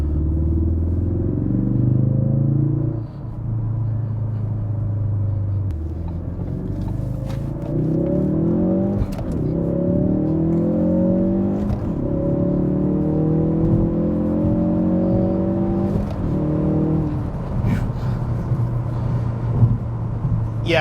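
A 2016 Ford Focus RS pulling hard through several gears, its engine note climbing steadily then dropping at each shift, a loud close cabin drone with rumble and whir throughout.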